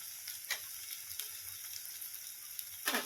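Oil sizzles steadily in a pan as turmeric is stirred into roasted ingredients for green pea chutney, with a bright hiss and occasional soft scraping clicks, close and fairly quiet.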